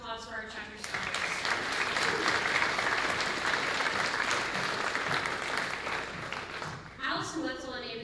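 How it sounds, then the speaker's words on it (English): Sustained audience applause fills a banquet hall at a high school FFA awards event, a dense wash of clapping that swells and holds, with brief speech at the start and end. "Let's give another round of applause for our chapter scholars."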